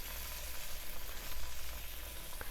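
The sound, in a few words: masal vada batter frying in hot oil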